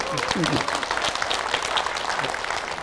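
An audience at a Korean lawmaker's constituency report meeting in Yeongju breaks into applause, loud clapping mixed with crowd voices and someone speaking over it.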